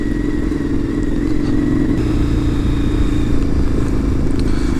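A Honda VFR750 motorcycle engine runs steadily up close on a rainy day, a continuous mid-pitched hum with faint mechanical clatter.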